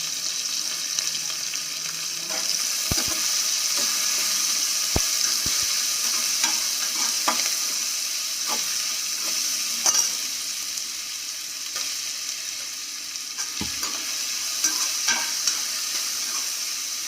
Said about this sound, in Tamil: நல்லா வதங்கணும்